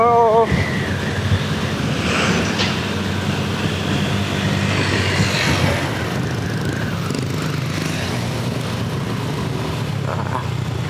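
Steady wind rushes against the microphone while riding along a quiet road from Subang toward Parang Gombong and Jonggol, with the low rumble of the vehicle underneath; broadband and continuous, no clear speech.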